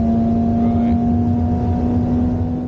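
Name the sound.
Ferrari SF90 accelerating on Yas Marina circuit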